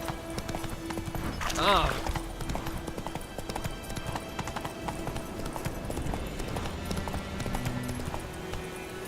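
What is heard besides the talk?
hooves of Geralt's horse Roach in The Witcher 3 video game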